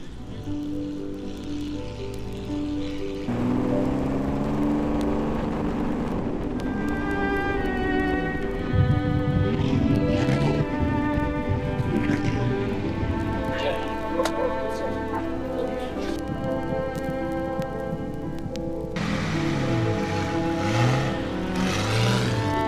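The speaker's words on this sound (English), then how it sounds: "the Sunbeam began to retrace its tyre tracks, gracing the sands of speed at Southport once more" A Sunbeam racing car drives along the open sands at Southport, its engine a steady, loud drone that holds for over twenty seconds, with wind and surf-like wash around it and no talk.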